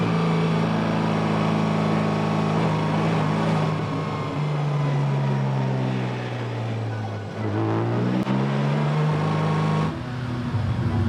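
A Porsche 718 Cayman GT4 engine runs loud and close, holding a steady low tone that sags briefly, then picks back up to the same steady pitch.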